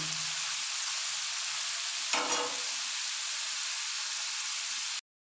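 Paneer fries in oil with turmeric and Kashmiri chilli over low heat, a loud, even sizzling hiss that holds steady and briefly swells with a stir about midway before cutting off abruptly.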